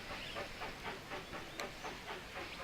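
Steam train running in Railroad Tycoon 3, a steady rhythmic chugging with hiss and a faint clickety-clack of wheels, moderately quiet and continuous with one brief sharp tick midway.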